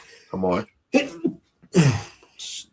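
A single sharp sneeze bursts out near the end, after a voice reading scripture aloud.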